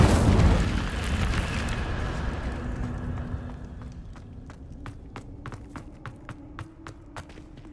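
A fiery Incendio spell bursts in Hogwarts Legacy with a loud roaring whoosh that fades over a few seconds, followed by a quieter stretch of sharp clicks and light footsteps.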